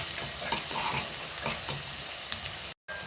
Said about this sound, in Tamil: இப்போ பாருங்கள் வெங்காயம் பூண்டு நல்லா வதங்கிட்டுருக்கு